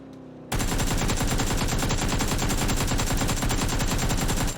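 Sustained automatic MP5 fire in PUBG on PC, a loud, dense, rapid burst starting abruptly after a brief quiet lead-in and continuing without pause to the end.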